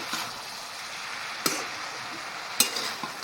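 Cabbage gets stirred in a pan with turmeric, a soft sizzle under two sharp scraping clacks of the spoon against the pan.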